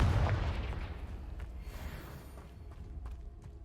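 A Confringo blasting spell goes off in Hogwarts Legacy as a single deep, booming explosion at the start, its low rumble slowly fading into a quieter crackling tail with scattered faint pops.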